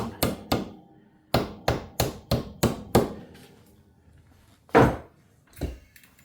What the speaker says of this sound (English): Big staple gun.